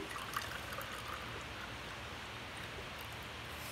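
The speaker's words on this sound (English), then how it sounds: "So we're just going to pour these in." Herbal tea is poured into popsicle molds, making a faint, continuous trickling stream of liquid throughout with no talk.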